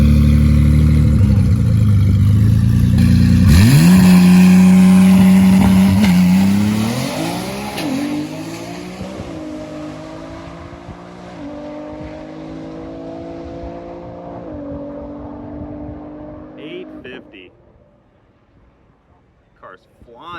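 An all-wheel-drive drag car roars hard from a burnout into an eighth-mile pull, its engine climbing through several shifts and then fading away into the distance, loud at first and dwindling to faint.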